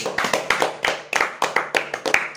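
A group of players claps hands together before starting a game of UNO Stacko, about a dozen quick, uneven claps close by, bunched in a loose rhythm over a couple of seconds, with no talking over them.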